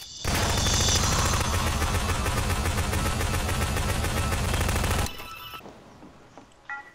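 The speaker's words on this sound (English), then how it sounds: "Shots fired." Garry's Mod prop hunt gunfire: a long, loud burst of rapid automatic fire runs for about five seconds, then stops abruptly, leaving a few quieter scattered shots and clatter.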